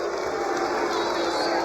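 A college basketball arena crowd, Belmont against Tennessee, roars and jeers in a loud, continuous wash of voices after a foul is called.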